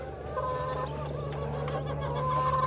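Meat chickens in a homestead pen cluck and murmur softly now and then over a steady low background hum, with no talking.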